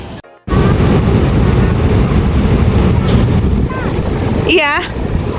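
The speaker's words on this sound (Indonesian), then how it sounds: "Minter kasih video pas Minter tergulung ombak karena airnya kenceng banget" Strong, fast surf at Slili beach in Gunung Kidul, Yogyakarta, a steady loud roar of rushing water with heavy wind buffeting the microphone, starting abruptly after a brief quiet moment and carrying on with a short whistling tone near the end.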